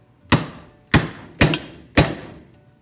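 A hammer strikes a bolt threaded back onto a Honda Pilot windshield wiper motor shaft to free the linkage: four sharp metallic taps, close and evenly spaced, each ringing out briefly, with no talk.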